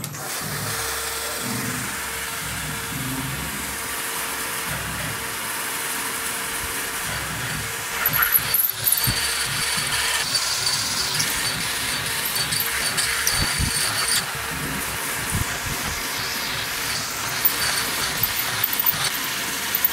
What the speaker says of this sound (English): Drill some half inch holes.